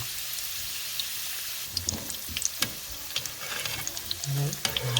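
Fish curry egg rolls fry in hot oil with a steady close sizzle, broken by sharp pops and crackles that grow busier toward the end.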